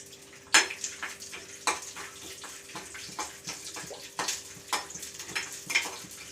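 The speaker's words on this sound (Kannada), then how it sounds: "ಕಡಲೆಬೇಳೆ ಸಾಸಿವೆ ಚಟಪಟ ಅನ್ನಬೇಕು" Mustard seeds, chana dal and urad dal with a few peanuts crackle in hot oil for a rice tempering, giving scattered sharp pops and sizzling bursts over a steady low hiss.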